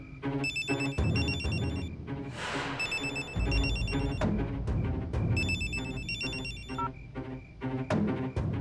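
A telephone bell rings repeatedly in a loud, steady electronic trill inside a home, the ring pattern repeating with short breaks over a dense musical background score.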